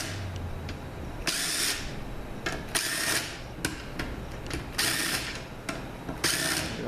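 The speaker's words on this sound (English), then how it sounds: "we'll go ahead and take the bolts out" Ratchet wrench loosening bolts on a Honda B90A transmission valve body, close clicking bursts repeated several times with brief pauses and faint background noise.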